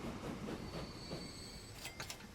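Train standing at a rail platform in the Transport Fever 2 game, a steady low rumble with faint tonal whine, then brief squeals near the end as the cars shift.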